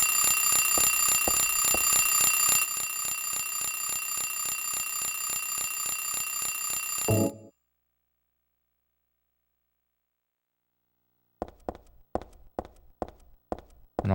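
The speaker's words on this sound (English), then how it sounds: "Turn off that bloody alarm." Alarm ringing in the Silent Hill 3 video game, a loud, steady electronic tone lasting several seconds before cutting off abruptly, followed by silence and then a run of sharp, evenly spaced taps or footsteps.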